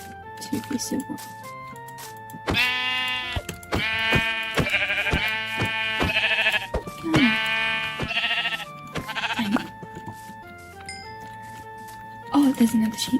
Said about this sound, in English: there's another sheep